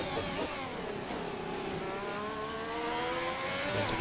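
An F1 2021 video game race car accelerates out of a chicane at Australia, its high engine note climbing through several rising sweeps. The whine is loud and continuous with no talk.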